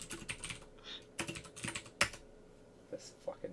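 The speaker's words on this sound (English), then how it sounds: "Hold on, I'm typing things." Fingers tap on a computer keyboard in irregular bursts of crisp clicks. Quiet pauses separate the bursts, and a single sharp keystroke stands out near the middle.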